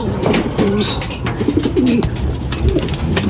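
Pigeons at a racing loft coo steadily and close by, with low throaty calls repeating over a constant outdoor background.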